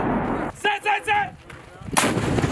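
A military field artillery gun fires during a live-fire exercise, heard as a heavy blast near the end of the clip. A few brief tonal calls come before it.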